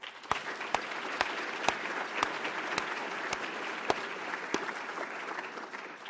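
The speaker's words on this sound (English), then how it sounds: "Please join me in a round of applause for them" Steady applause from an audience at an annual meeting awards presentation fills the clip, with a few sharp, louder claps popping out at intervals above the continuous clatter.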